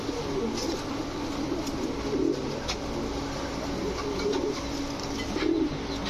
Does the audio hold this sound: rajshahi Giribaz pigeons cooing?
yes